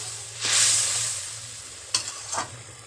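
Boiled potatoes stirred into hot spiced oil in a pan while cooking Bengali sukto: a loud sizzle as they go in, then quieter frying hiss with a few sharp scrapes of the spoon.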